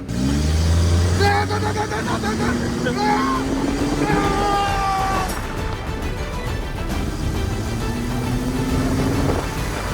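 A large bus engine revs up and down several times, rising and falling whines over a continuous rumble, close and loud.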